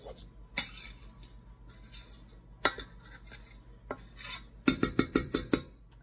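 Utensil scraping and clinking against a bowl while scrambled eggs are stirred for beer bread, soft scratchy stirring followed by a run of about six sharp, close, rhythmic taps near the end.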